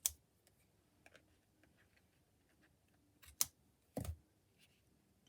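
Scissors trim ribbon ends in a quiet room, giving a few sharp, brief snips spaced apart, the clearest near the end, among faint small clicks.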